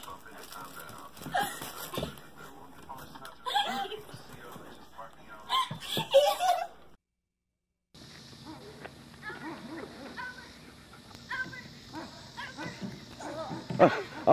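A dog gives scattered barks and yelps during leash training, some near and sharp, some fainter, with people talking and a brief silent gap partway through.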